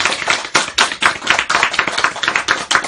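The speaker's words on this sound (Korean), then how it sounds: "박수 한번 쳐야지 때." An audience claps, a crowd of hands beating in a quick, uneven patter that stays loud and close for the whole stretch, with no talking.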